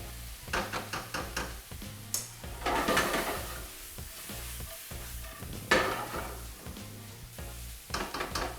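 Vegetables sizzle and crackle steadily in a hot pan for a vegan dish, with stirring clatter and utensil knocks against the cookware throughout, close and fairly loud.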